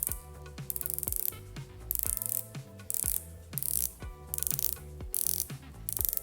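A Nereide Tungeteno 3 dive watch bezel is turned in short bursts, giving crisp, close ratcheting clicks in quick rapid runs separated by brief pauses.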